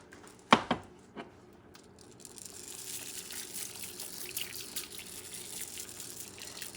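Water or stock poured into a pan of bomba rice for an alligator paella. A couple of sharp knocks come first, then a steady, close pouring hiss that runs to the end.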